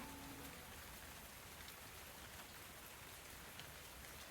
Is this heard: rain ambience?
yes